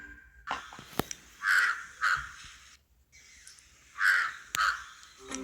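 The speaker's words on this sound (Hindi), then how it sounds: "एक कौवा उड़ता हुआ आया जिसका नाम कालिया है।" A crow caws in two short bursts of harsh calls, a few seconds apart, against a quiet background with faint clicks.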